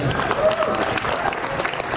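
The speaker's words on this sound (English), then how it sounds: "One more round of applause here for Craig Thatcher." Applause from an audience at a guitar maker's press day during the NAMM 2024 trade show, a steady dense clapping wash lasting the whole couple of seconds with crowd noise mixed in.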